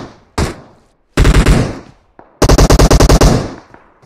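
Video game gunfire: a single loud shot, then two close, rapid automatic bursts separated by brief silence, with no talking over them.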